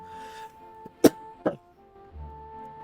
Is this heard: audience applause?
no